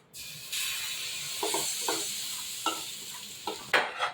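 Ready-made pea filling for kachori hissing in mustard oil in a pan, a steady sizzle that jumps louder as the filling goes in, broken by several close scrapes and clanks of a spatula stirring.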